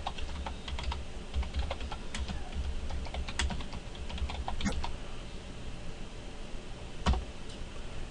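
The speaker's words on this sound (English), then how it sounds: "I'm just going to type in switch port mode access." Keys clatter on a computer keyboard as commands are typed in quick irregular bursts. The taps are close and fairly quiet, with one sharper keystroke near the end.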